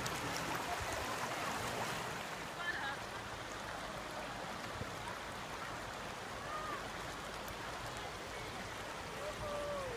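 A river current flows in a steady, broadband rush through all ten seconds, with faint voices of a family nearby during a July 4th weekend outing.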